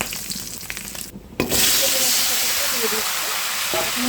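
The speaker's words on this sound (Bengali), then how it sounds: "পটলটা আমি একটু ভেজে নেব" Pointed gourd (parwal) frying in hot oil left from frying fish, a steady broadband sizzle that jumps louder after a short dip, with faint clinks of a utensil against the pan.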